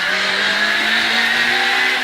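A rally car blasts along a Basse Normandie stage at full throttle, its engine a loud, steady high-revving drone heard from inside the car, with no voices.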